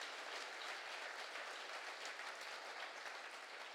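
Steady audience applause fills the hall at an SPD party rally in Bremen, a dense, even wash of many hands clapping throughout, fairly faint and with no voices on top.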